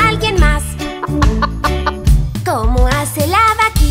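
Hen clucking runs through a lively children's song about farm animals, with choppy, rising clucks that sound voiced in imitation, set over bouncy music.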